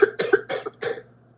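A burst of several quick, raspy coughs in a row, close and fairly loud, trailing off into silence.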